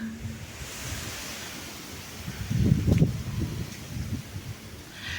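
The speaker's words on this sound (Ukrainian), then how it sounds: "сьогодні в нас вітер, сильний вітер прохладно" Steady wind roars and buffets close to the microphone, with a stronger gust swelling in the middle before easing back to a constant rush.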